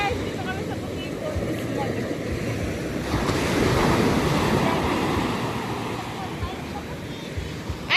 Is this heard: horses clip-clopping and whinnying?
no